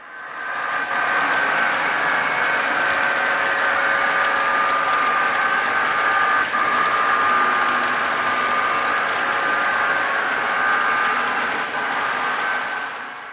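A loud, continuous rumble and rattle of a long freight train with covered hoppers rolling past, with steady wheel noise and faint metallic squeals throughout.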